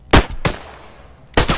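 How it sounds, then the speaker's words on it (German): Three sharp gunshots in the video game ArmA 3, two in quick succession and a third after a pause, loud and close with short decaying tails. "Ich habe halt direkt auf den Typen da hinten geschossen."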